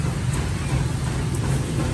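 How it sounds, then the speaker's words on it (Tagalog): Heavy rain pours down in a steady, dense hiss with a low rumbling undertone, continuous and fairly loud throughout, with no voices. "Ulan na ulan."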